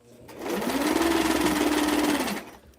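A sewing machine runs steadily for about two seconds while stitching a Barbie square dance dress, giving a close, even mechanical whir that starts and stops cleanly.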